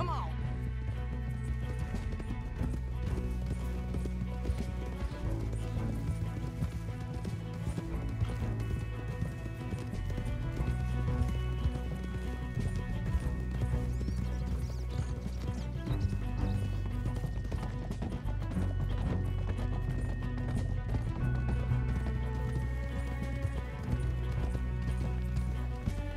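Horses gallop in Red Dead Redemption 2, a quick rhythmic clip-clop of hooves running steadily throughout, with a brief neigh and character voices talking over it.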